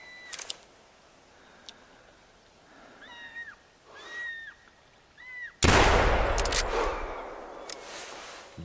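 A single loud rifle shot at a mule deer in the hunting game theHunter Classic, a sudden booming crack with a long rolling echo, preceded by quiet wilderness ambience with a few faint bird-like calls.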